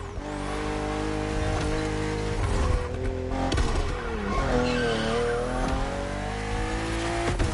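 BMW M2 and M4 race cars in The Crew Motorfest howl at high revs along a narrow road with sharp bends, engines shifting pitch while tires squeal through the corners, loud and continuous.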